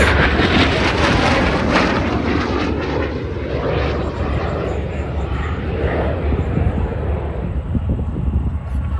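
A fixed-wing aircraft flies a right barrel roll during an airshow, its engine roar loud and wavering as it passes, with crowd noise or voices underneath.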